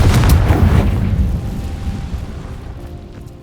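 A Confringo blasting spell explodes in the video game Hogwarts Legacy, a loud, deep booming blast that rumbles and slowly fades over a few seconds.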